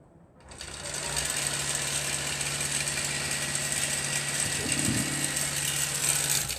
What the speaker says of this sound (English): what's happening now is I've got it stitching this zigzag